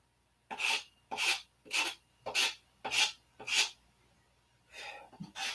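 A body file rounding over the edge of a motor mount, six even rasping strokes in a steady rhythm, close and fairly quiet, followed by a few shorter, softer scrapes.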